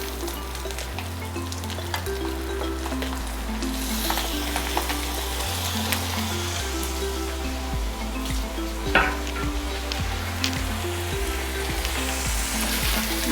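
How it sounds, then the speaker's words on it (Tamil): Chettinad-style mutton pieces fry in hot oil while being turned and stirred in a pan, a continuous close sizzle broken by scraping strokes and occasional clinks of the spoon. "மட்டன் போட்டு நல்லா திருப்பி நல்லா கொஞ்சம் நேரம் கிண்டணும்."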